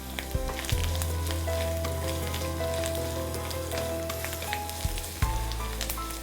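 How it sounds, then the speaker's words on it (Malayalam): Coconut pieces, shallots and halved green chillies fry in oil for a Kerala chicken roast, giving a loud, steady close sizzle with occasional stirring clatters and no talking. "ഇത്രയും തേങ്ങ നമുക്ക് വറുക്കാനുണ്ട്, ഇത്രയും കൊച്ചുള്ളി ഉണ്ട്, ഇതെല്ലാം ഈ എണ്ണയിലാണ് വറുക്കുന്നത്."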